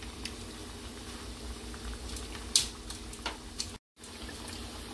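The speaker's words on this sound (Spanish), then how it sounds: "esta es la forma que vamos a freír la primera vuelta" Plantain slices for tostones frying in hot oil, a steady close bubbling sizzle with a few sharp pops, briefly cut to silence near the end.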